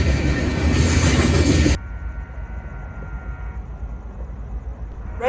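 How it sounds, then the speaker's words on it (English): The ROTJV freight train rolls past in Houston with loud rumbling rail noise and a faint wheel squeal, then cuts abruptly to a quieter, distant rumble. "This train is the ROTJV, coming out of Ogden, Texas, bound for a place called Jersey Village."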